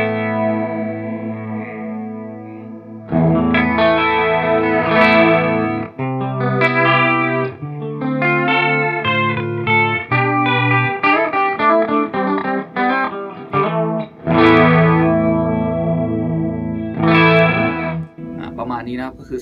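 An electric guitar runs through a Tech 21 Richie Kotzen RK5 Fly Rig, its delay set with heavy drift and level to act as a chorus. Picked notes and chords shimmer and waver, ringing out alone for most of the passage.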